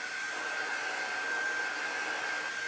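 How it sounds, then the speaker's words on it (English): A hand-held air dryer blows on craft transfers, giving a steady, even whir with a constant high whine held at the same level from start to finish, with no speech. "But this is just our air dryer. So it's not really hot."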